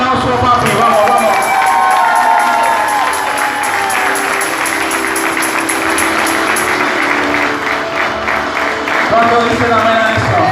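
A church congregation claps and cheers loudly and steadily throughout, a dense crowd roar with rhythmic clapping, while a preacher's voice and shouting rise over it.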